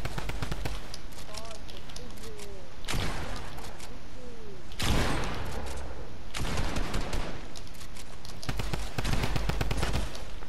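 Rapid gunfire crackles through a video game free-for-all match in dense bursts and long sustained volleys, with louder blasts standing out, while players talk over the shooting.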